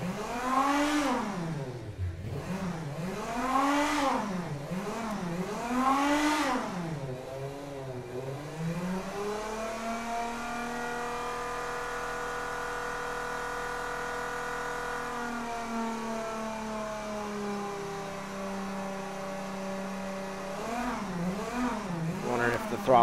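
A Chevy 4.3L Vortec V6 fitted with individual throttle bodies, simulated in the car-building game Automation, revs up and down in repeated sweeps, then holds a steady high pitch before revving again.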